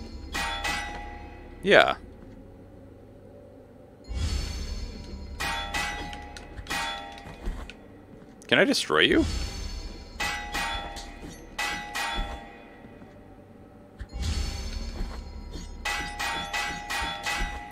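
In the dark video game Blasphemous, several sharp metallic clangs and rings sound out amid game effects and music, a few louder strikes standing out, while someone talks over much of it.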